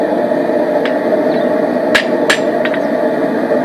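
Hammer blows forge a knife blade, a few sharp metallic strikes spaced irregularly over a steady background hum, close and loud.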